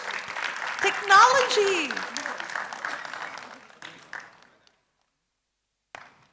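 Short round of applause from a panel audience at an education technology event, mixed with talking and a few whoops at first, fading out by about four seconds, followed by near silence and one brief sound.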